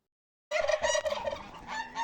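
A burst of close, loud turkey-like gobbling and calls from backyard poultry, including bantam chickens, after a brief silence.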